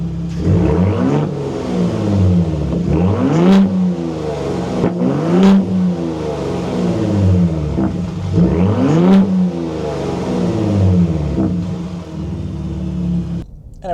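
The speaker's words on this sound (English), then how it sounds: "Let me show you what it sounds like from the outside as I rev it." A 2025 Ford F-150 Raptor with the 37 Performance Package, in Baja mode and heard from outside, revs loudly in about four repeated rising bursts that fall back to a deep rumbling idle between them.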